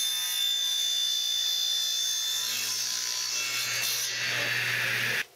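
A table saw cuts a single pass through wood to make a miter fence: a steady, loud whining drone with a rising rasp of the blade in the stock, then an abrupt stop at the end.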